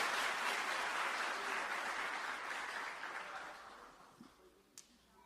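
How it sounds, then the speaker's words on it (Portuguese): A church congregation applauds steadily, broad and sustained, then fades out, leaving a couple of isolated claps near the end. "Dê um aplauso a Jesus, faça isso"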